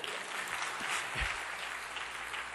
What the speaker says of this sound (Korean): 저한테도 박수를 한번 해주시죠